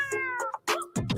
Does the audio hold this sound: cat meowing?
yes